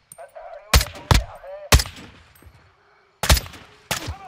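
Gunfire erupts during a stealth mission in the video game Modern Warfare 2 Spec Ops, a handful of sharp, loud shots spaced irregularly with short pauses between them.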